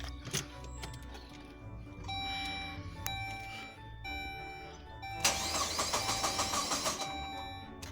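Car engine cranking repeatedly without catching after running out of fuel, starter whirring in several bursts with short pauses, the last burst longer and louder, close by with no talk.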